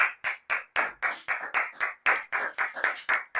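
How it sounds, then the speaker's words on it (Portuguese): A church congregation claps together in steady rhythm during a prayer service, sharp repeated hand claps about four per second, close and loud, with no talking over them. "Vamos aplaudir ao Senhor."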